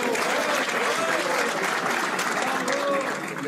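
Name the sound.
audience applause at a pétanque match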